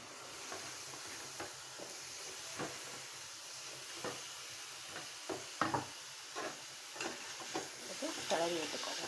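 Chicken pieces for a curry frying and being stirred in a pan, with a steady soft sizzle and a series of scraping, clattering stirs close by, without any talk.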